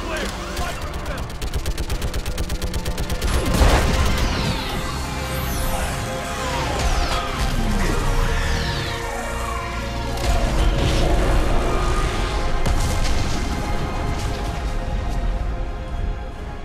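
Orbital strike gunfire and explosions in the sci-fi game Mass Effect, fought against a live Reaper: continuous rattling weapon fire with crashes and booming hits, loud and sustained, with voices talking over the battle.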